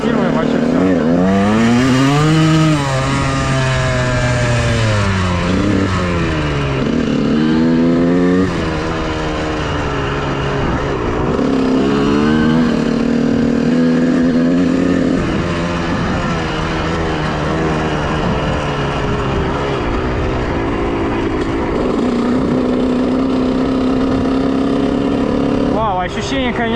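Honda CR125R two-stroke enduro motorcycle being ridden, its engine rising and falling through revs in a loud, continuous, buzzing drone that stays close for the whole stretch.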